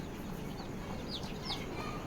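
Poultry on a farm give a few faint, scattered clucks and short high calls over a quiet, steady background, the birds sounding some distance off.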